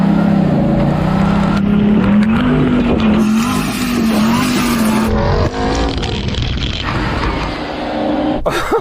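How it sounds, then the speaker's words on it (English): An off-road truck in four-wheel-drive low and second gear climbs a rocky hill, its engine droning loud and strained with a wavering pitch while rocks and gravel rattle and crunch beneath it. "it got up and I think it was like sending rocks out the back like a howitzer"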